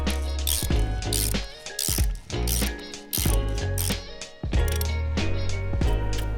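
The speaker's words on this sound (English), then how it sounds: "We're gonna grab our 32mm socket and ratchet," A 32mm socket on a ratchet is tightening the oil filter housing of a Volkswagen Golf Alltrack 1.8L TSI. Close, rapid bursts of ratchet clicking repeat in quick strokes with short pauses between them.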